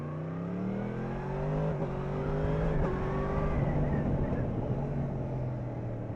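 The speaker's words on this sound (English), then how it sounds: "That cross-plane engine, just gorgeous." A motorcycle's cross-plane engine revs up and down, rising and falling in pitch with a throaty rumble, close by and fairly loud over wind.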